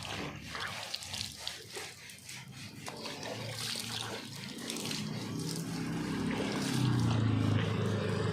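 Water is sprayed and splashed over white car paint during a rinse, a steady broadband rush that grows louder and fuller toward the end.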